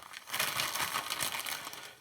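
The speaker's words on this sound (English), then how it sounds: "What I have in here is a basic plastic bag that has a slider onto it." A basic plastic slider bag crinkling in a kitchen during cooking, a close, continuous rustle with irregular crackles running throughout.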